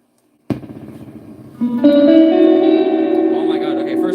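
Electric guitar through an amp's spring reverb turned to maximum, notes struck and sustained with a long wet, splashy tail; loud and close, a second chord swelling in after the first.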